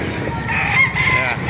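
A golden rooster crows close by in Baliwag, Philippines, one sustained loud call against a steady background hum.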